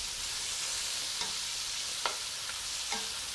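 Pork pieces fry in a pan for a Spanish pork dish, giving a steady quiet sizzle with a few faint clinks and stirring ticks scattered through it.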